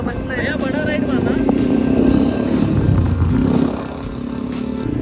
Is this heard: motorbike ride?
yes